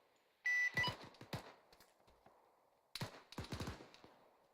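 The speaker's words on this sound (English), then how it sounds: "Taking fire on position." Bursts of gunfire in a military video game exercise: an opening volley followed by scattered single shots, then a second cluster of rapid shots near the end, all fairly close and sharp.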